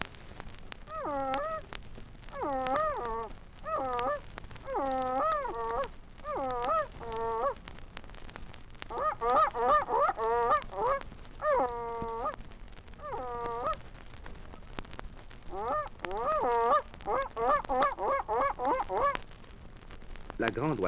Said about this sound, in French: L'outarde étant un oiseau très méfiant et très craintif